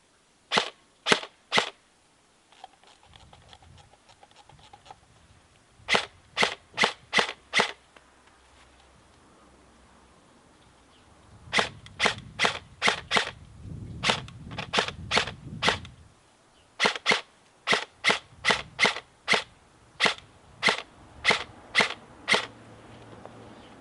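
Sharp shots from an airsoft gun fitted with a silencer fire in quick bursts of three to five, separated by short pauses, with faint clattering and handling noise between volleys.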